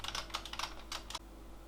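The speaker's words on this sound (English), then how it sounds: "this is actually a Syncan branded TK-M501C, which is a buckling spring keyboard" Bursts of clacking keystrokes on a Syncan TK-M501C buckling spring mechanical keyboard, close and crisp, in quick uneven clusters before stopping, with no voices.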